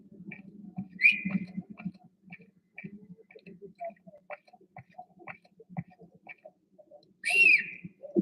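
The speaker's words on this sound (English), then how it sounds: "I was whistling because I'm trying to get the other AI to hear me because he's so far." A stealth character in a Splinter Cell video game gives two short, high whistles several seconds apart to attract a distant guard, set against quiet ticking game ambience and soft footsteps.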